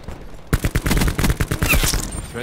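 A rapid burst of automatic gunfire in Call of Duty: Black Ops 4, loud and close, with quick evenly spaced shots starting abruptly after a short quiet moment.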